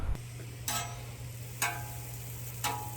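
Butter sizzling on a hot Blackstone griddle, a steady soft frying hiss under a low hum, punctuated by three brief brighter scrapes or spatters spaced about a second apart.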